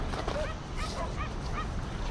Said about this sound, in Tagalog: Walang tigil yung aso doon ah.